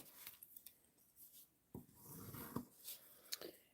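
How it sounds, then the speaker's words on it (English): A paper card base is folded and burnished by hand, giving quiet close-up rubbing and scraping strokes with short sharp creasing sounds in between, no talking. "I'm going to fold and burnish this"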